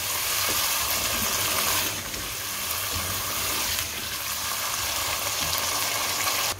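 Oil sizzling steadily under chicken karahi as it is stirred, a dense, loud crackling hiss that barely lets up, with faint scraping and a couple of brief surges as the pan is worked.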